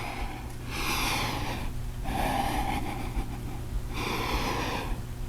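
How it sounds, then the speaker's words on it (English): Slow, deep breaths during a yoga session, three long airy inhales and exhales with a faint nasal rasp, close to the microphone over a steady low background hum. "And one more nice breath"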